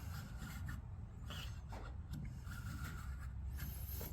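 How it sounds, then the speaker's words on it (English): A marking gauge scribes a wooden workpiece to lay out a tenon, giving quiet, close rubbing and scratching strokes in short repeated passes. "with my marking gauge, I'm going to mark where that tenon goes"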